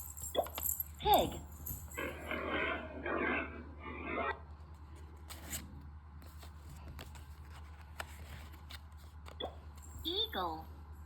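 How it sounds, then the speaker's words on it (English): A pig grunts in a run of rough, rapid oinks, close and moderately loud, between short bursts of speech. "Pig."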